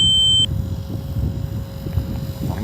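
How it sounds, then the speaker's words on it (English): An electronic timer beeps with one steady high tone for about half a second, then cuts off, leaving windy outdoor rumble near a Walkera V450D03 radio-controlled helicopter flying on a windy day. "Oh, timer going off."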